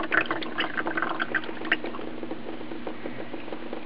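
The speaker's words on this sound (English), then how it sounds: "Drain the water out." Water drains from an undersink filter housing of a US-1500 system into a bucket, a steady close trickling and splashing with bubbly patter throughout, no talk.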